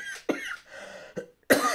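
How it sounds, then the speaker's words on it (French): A woman has a coughing fit made of several sharp, close coughs in uneven bursts, separated by brief raspy breaths. "je suis désolée, j'ai une quinte de toux"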